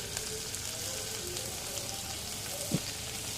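Onions sliced lengthwise and green chillies frying in a pan for an oyster mushroom pepper gravy: a steady, fairly quiet sizzle with a brief stirring knock near the end.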